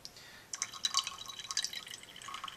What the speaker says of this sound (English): I'm doing a distilled water rinse of the copper metal.